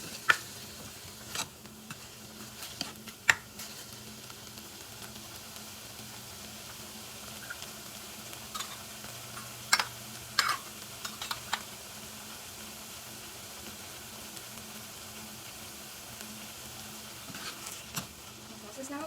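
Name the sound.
mushrooms and vegetables sauteing in a pan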